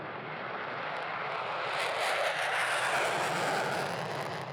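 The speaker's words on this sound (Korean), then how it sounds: "언제 들어도 가슴 뜨거워지는 전투기의 엔진 소리" Twin-engine F-15K fighter jet roaring loud and steady, its broadband engine rush swelling slightly toward the middle and holding throughout with no voices.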